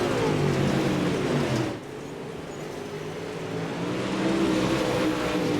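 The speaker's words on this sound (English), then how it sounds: "Christopher Joy running right through the middle of the speedway, keeping that car perfectly straight" Race car engine droning steadily as it runs down the middle of a speedway straight during a late-race battle at Pevely, loud and continuous with slight rises and falls in pitch, no talk over it.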